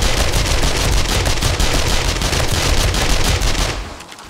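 Sustained automatic gunfire from weapons in the 7 Days to Die video game during a zombie horde night, a dense, loud, continuous stream of rapid shots lasting about four seconds before cutting off abruptly.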